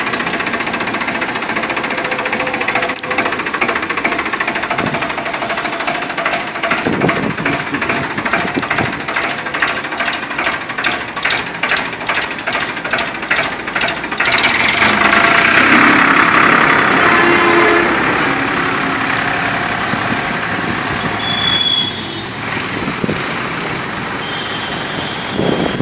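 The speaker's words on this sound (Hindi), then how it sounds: "Farm track champion 41 HP power steering. क्या साउंड प्रूफ आवाज़ है।" A Farmtrac Champion 41 HP tractor with power steering runs steadily, its engine giving a continuous close mechanical drone with a rapid knocking pulse that grows louder and rougher partway through.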